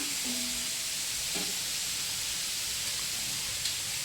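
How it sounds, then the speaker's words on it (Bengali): Onions and tomatoes sizzle steadily in a kadai for a butter chicken gravy, a continuous close hiss of frying with a faint clink partway through and no talking. "এবার বাটার চিকেনের গ্রেভিটা বানিয়ে কড়াইয়ের মধ্যে পেঁয়াজ আর টমেটোটা দিই"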